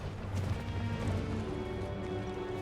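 A horse's hooves pound in a rapid gallop through combat in the Elden Ring video game, a dense, continuous rumble with heavy thuds, close and loud.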